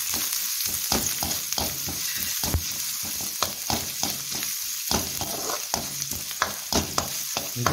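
Ginger and garlic frying in oil in a pan for Kerala fish curry, a loud close sizzle with frequent sharp crackles and pops and stirring scrapes throughout.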